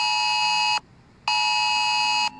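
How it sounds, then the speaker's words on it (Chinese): An emergency alert alarm sounds during a drill as two loud, sustained electronic tones separated by a short gap, harsh and piercing with no talk. "而警报声一响起，大多民众的第一反应就是赶快看手机。"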